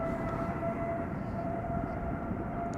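TUI airliner at Schiphol spools up its engines for takeoff, a steady loud jet roar with a sustained whine, heard from some distance without voices.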